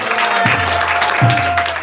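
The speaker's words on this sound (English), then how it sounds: "Please give her another round of applause" A crowd at a Lord Nityananda festival applauds steadily, a dense wash of clapping that carries through the whole stretch, with a low hum underneath.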